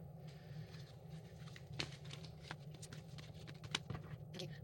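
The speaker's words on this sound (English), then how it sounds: "So let's pull coaching cards. So I'm going to pull from this deck." Riffling and soft slaps of a deck of coaching cards being shuffled and pulled, quiet and close, with irregular flicks over a steady low hum.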